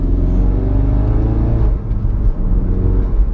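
A Ford Focus RS Mk3 with a new engine on the move, its deep, loud engine note rumbling and rising under light acceleration, heard from inside the car with no talking.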